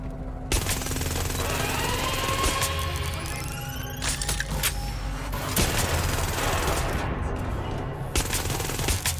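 Sustained automatic gunfire in Watch Dogs Legion, continuous dense bursts and sharp shots filling the whole stretch, loud and close within a busy game mix with faint music tones.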